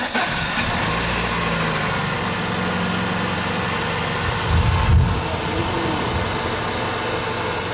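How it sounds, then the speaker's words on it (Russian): A VAZ 2114 car engine starts and runs steadily at idle, with a brief surge in revs partway through, close by and fairly loud, no voices. "пробный запуск"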